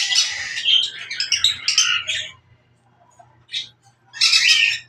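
Small birds in a home aviary chirp and tweet in quick, bright bursts, loud and close; a busy flurry of calls is followed by a short lull and then two more sharp bursts.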